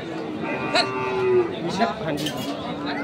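Bull cattle bellowing at a busy livestock market, with several close, loud moos rising over a steady murmur of crowd noise and distant calls.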